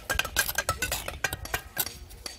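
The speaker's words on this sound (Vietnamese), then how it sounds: "nghe gõ bay cứ xoạc xoáng" A steel bricklaying trowel taps and clangs against bricks on a thick 50 cm wall under construction, a quick irregular run of sharp metallic clinks close by with no talking.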